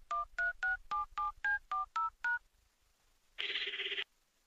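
A telephone number is dialed on a keypad: about nine short DTMF tones in a quick, even rhythm, then a pause and a longer, brighter buzzing tone, all clear and close with no talking.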